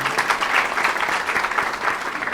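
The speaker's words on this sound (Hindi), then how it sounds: "ताली बजाओ हंसा पे।" An audience claps for a person named Hansa at a business talk, dense steady applause filling the room throughout, fairly close with no clear talk over it.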